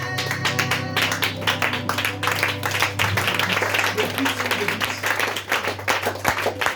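A church congregation claps together in a dense, fast rhythm, loud and sustained from start to finish, with voices and a low hum underneath.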